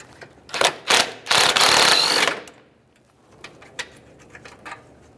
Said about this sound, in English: We can remove the nut, the washer, and the spring.